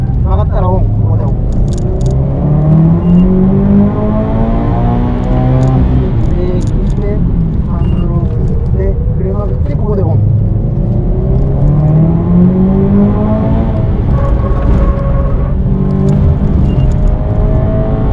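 A Subaru WRX STI engine revs up repeatedly during driving, pitch climbing and falling in long sweeps, loud and close, with people talking over it.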